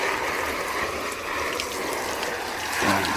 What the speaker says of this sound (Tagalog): Simulan nyo ng spray ng tubig